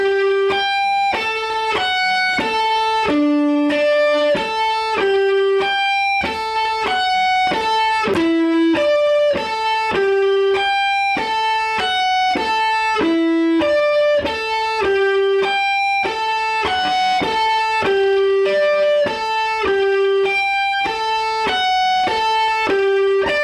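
Electric guitar plays a riff slowly, a steady stream of clear picked notes in a repeating pattern, loud and alone with no voice.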